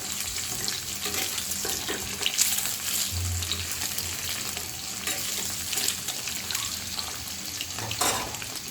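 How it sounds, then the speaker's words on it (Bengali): Eggs fry in oil in a pan and are turned over. A loud, continuous crackling sizzle runs throughout, with occasional scrapes from flipping. "আমি ডিমগুলো উল্টে পাল্টে ভেজে নেব"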